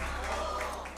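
A church congregation claps together in a steady, continuous wash of applause, moderately distant and fairly soft, over a low electrical hum.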